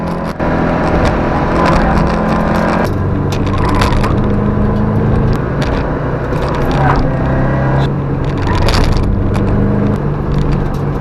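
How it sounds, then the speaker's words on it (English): Subaru Legacy wagon lapping a racetrack and deliberately running over the curbs, a steady loud engine and road roar with repeated thumping, crunching impacts as the tires strike the raised curbing. "we spent the rest of the day intentionally driving over curbs."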